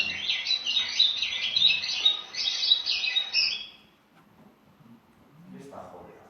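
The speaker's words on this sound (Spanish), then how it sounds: "El canto de las aves, el canto de los pájaros, algo también que sería muy habitual." Birds sing and chirp in a busy, overlapping chorus that carries strongly for several seconds, then breaks off; a few faint calls and soft rustling follow in near quiet.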